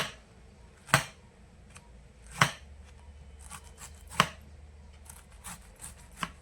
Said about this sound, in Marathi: मग ते कोबी कापून घेऊ.